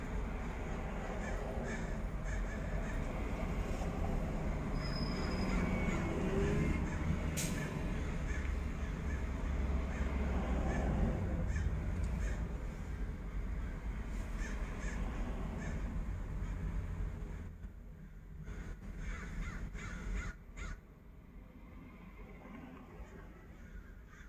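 Many crows caw at the seaside in California, a loud, busy flock over steady wind or surf noise, the calling thinning out in the last few seconds.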